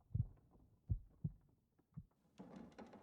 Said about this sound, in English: the heartbeats went away